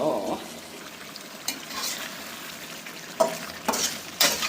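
Chicken curry with potatoes is stirred and fried in a pot. A steady sizzle runs throughout, broken by several close, sharp scrapes of the stirring utensil against the pot.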